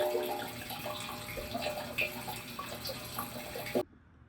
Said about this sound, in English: So I've added the water in.